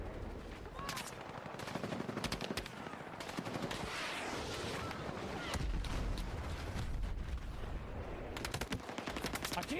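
Video game gunfire rattles almost continuously through the whole stretch in dense automatic bursts, with a few heavier blasts mixed in, loud and busy with no talk over it.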